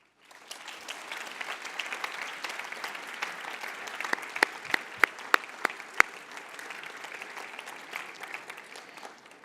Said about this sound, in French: je vous demande tout d'abord d'applaudir ce qu'il nous a offert